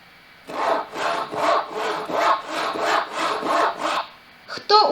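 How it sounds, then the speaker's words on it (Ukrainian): A hand saw cutting through wood plays as a sound example, with about eight steady back-and-forth rasping strokes at an even rhythm, fairly close and loud. A short different sound follows right after the strokes stop. "працює пила"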